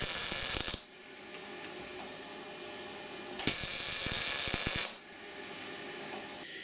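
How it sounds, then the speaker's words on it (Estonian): Metalwork on a cold smoke generator, drilling a hole and welding on a fitting, gives two loud bursts of harsh mechanical grinding that stop and start again, with quieter clanks between them. "Siia puurin alla augu ja keevitan siia külge selle settepoti jaoks."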